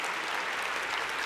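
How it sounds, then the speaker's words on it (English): Audience applause for conference panelists fills the hall, a dense steady clapping from a crowd at an even, fairly loud level with no break and no speech. "please give the big claps to the audience"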